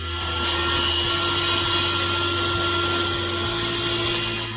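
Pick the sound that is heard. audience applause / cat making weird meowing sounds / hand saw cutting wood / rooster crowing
hand saw cutting wood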